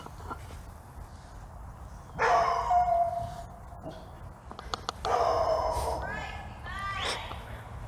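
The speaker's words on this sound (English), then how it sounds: "dog Gracie has found us" A dog named Gracie barks in two loud bursts of sharp, yippy barks, with quieter background noise and a few faint clicks between.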